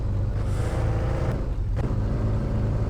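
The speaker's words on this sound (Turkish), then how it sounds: "Araba çok kayıyor." Car drifting and sliding in the Car For Sale video game, a steady loud engine drone with tyre scrub running throughout, with no voices.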